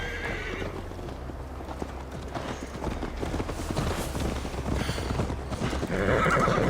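Horse hooves clip-clop steadily on the ground in Assassin's Creed Valhalla, with a whinny and wind-like rushing, the ride building slightly louder toward the end.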